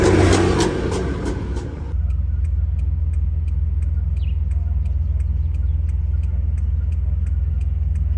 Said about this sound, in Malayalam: നമ്മളിപ്പോ ലാൻഡ് ക്രൂസർ പെട്രോൾ വണ്ടിയിലെ പോണത്